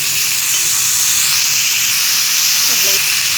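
Green chillies sizzle steadily in a pan of freshly added oil, a constant close hiss of frying with a faint background tone and no talk.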